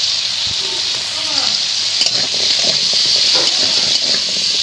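Small cut potatoes with salt and turmeric frying in hot oil, a steady close sizzle throughout with faint scraping and a brief voice underneath.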